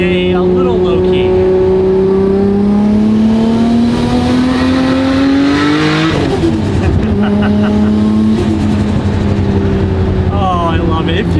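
Nissan R32 GTR engine revving hard while driving, loud rising and falling harmonics through two pulls with a brief shift near the middle, close and dominant throughout.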